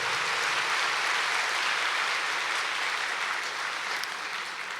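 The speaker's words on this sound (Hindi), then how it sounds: "हाँ, ताली बजाओ" Steady, dense hand-clapping from a hall audience at a spiritual gathering, continuing evenly for several seconds without voices on top.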